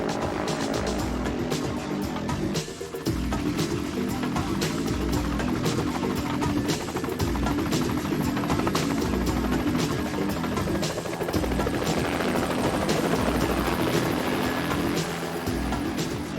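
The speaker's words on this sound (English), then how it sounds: "Helicopters are amazingly effective firefighting tools, as they can drop buckets of water on flames with surgical precision." A firefighting helicopter's rotor thumps and whines steadily for the whole stretch, loud and close, with a constant churning engine drone and no voices.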